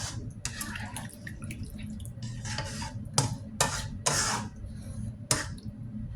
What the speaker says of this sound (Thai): ติมน้ำลงใส่พอท่วมหมู